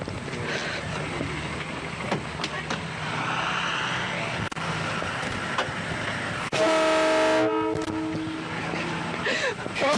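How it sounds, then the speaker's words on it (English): A vehicle fitted with a train horn gives a loud, sustained multi-tone blast near the end, cutting through steady outdoor crowd noise at a county 4-H achievement days event, with voices heard before it. "Train horn."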